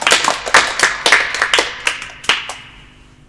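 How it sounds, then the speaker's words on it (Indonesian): A classroom of students clapping for themselves, a quick burst of a dozen or so close, uneven hand claps that tapers off within a few seconds. "Aplaus dulu untuk diri kalian."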